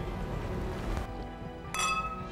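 Glasses clink together in a toast, a bright short chime standing out near the end over a busy background of low room noise.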